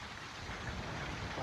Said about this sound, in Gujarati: બહુ મસ્ત વરસાદ